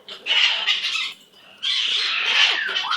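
A pet bird lets out two long, loud, harsh squawks close by, separated by a short pause, with no talking over them.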